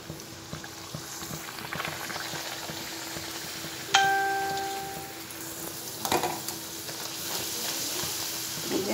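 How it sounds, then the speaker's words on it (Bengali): Luchi, a puffed flatbread, fries in hot oil with a constant bubbling sizzle, punctuated by a sharp metallic clink with a short ringing tone and a later clatter from the frying utensil. "ছেলের লুচিটা ভেজে দিয়ে দিই ছেলেকে"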